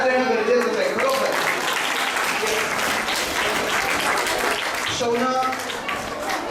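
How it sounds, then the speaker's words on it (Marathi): Sustained crowd applause at the Sankalpana 3.0 event in Chiplun, honoring the organisers; loud, dense clapping throughout with voices faintly mixed in, tapering slightly near the end. "रिअली प्रत्येकाने त्यांना टाळ्या देणं गरजेचं आहे"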